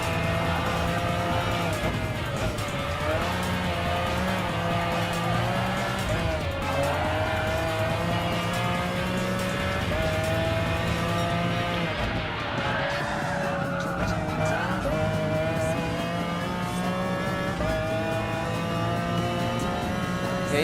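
A 1995 McLaren F1 GTR race car in Gran Turismo Sport, its engine roaring loud and continuous with rising and falling revs through gear changes, mixed with tire squeal from hard cornering.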